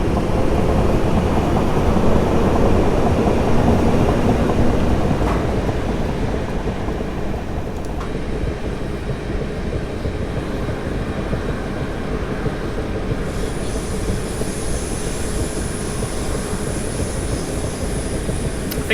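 A Class 455 electric passenger train runs in Train Simulator 2018, heard from the passenger view on the Hampton Court to London Waterloo line: a steady loud rumble of wheels and traction motors with a faint high whine joining later.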